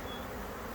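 Dense swarm of honey bees buzzing around a hive in late spring, a steady, close, continuous hum with no pauses and no talk.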